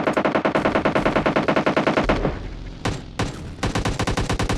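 Rapid, loud bursts of gunfire in a squad-versus-squad shooter video game, repeated shots firing in steady strings with a brief pause midway before resuming, no talking over it.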